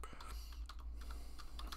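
Quick, light keystrokes on a computer keyboard while entering text into a spreadsheet, soft clicks in an irregular rhythm over a low background hum.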